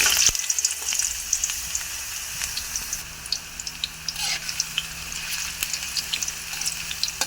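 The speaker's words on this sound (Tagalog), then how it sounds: "pag mainit na ang ating mantika, ilagyan na natin ang ating carrots. Iprituhin muna natin." Sliced carrots frying in hot oil in a pan, a steady crackling sizzle with scattered pops and spits, close and fairly quiet, with no voices.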